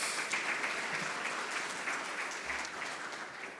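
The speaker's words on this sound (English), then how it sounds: "Just another round of applause." Applause from a forum audience at a Namibian public-private event, a steady round of clapping without voices.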